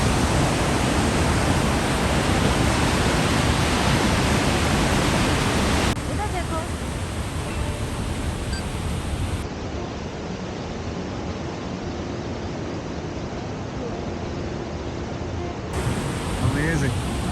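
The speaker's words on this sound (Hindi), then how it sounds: "आवाज़ आ रही होगी यहाँ से पानी के गुजरने की" Water rushes steadily past a steep spot along a stream, a loud continuous broadband roar close to the microphone, easing slightly partway through, with no talk over it.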